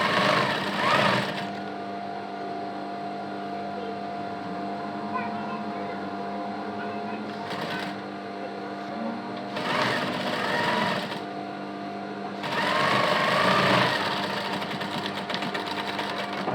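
A sewing machine stitches cloth slowly, running in several short bursts of rapid mechanical whirring separated by pauses, with a low steady hum beneath.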